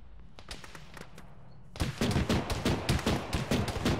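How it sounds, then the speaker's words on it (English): BMP/BTR armoured vehicle firing in the military game Arma, a few scattered distant shots giving way to a rapid, loud sustained burst of automatic gunfire. "that BMP BTR is shooting at us from the north."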